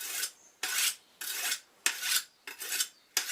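Sharpening a sickle blade with a file: six rasping strokes in a steady rhythm, each a bright grating scrape, close and clear with no voices.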